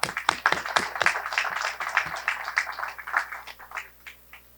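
Applause from the crowd at a government ceremony handing over vehicles, a scattered patter of clapping that builds briefly and then thins out and fades.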